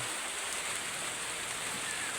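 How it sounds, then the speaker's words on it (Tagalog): Steady, unbroken rainfall on an afternoon, a dense even hiss of drops hitting surfaces, moderately loud and constant throughout with no talking. "walang tigil ang ulan"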